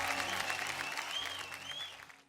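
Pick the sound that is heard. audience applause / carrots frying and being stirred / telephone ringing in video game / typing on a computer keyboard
audience applause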